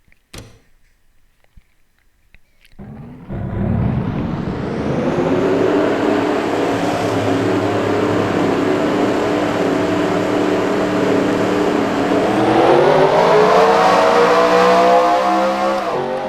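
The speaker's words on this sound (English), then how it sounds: "Let's get the cars rolling off, see where you start." Race cars in an oval racing video game roll off and accelerate after a near-silent start, the engines building into a loud, sustained drone that climbs in pitch toward the end.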